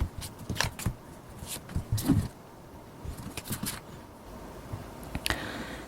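Tarot cards are shuffled and drawn by hand during a reading. Close, crisp riffles and soft flicks come in short irregular bursts, with brief pauses between them.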